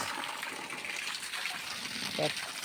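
Water gushes steadily while being poured onto rose and jasmine plants in a garden, a constant splashing wash at moderate level with a brief louder burst near the end.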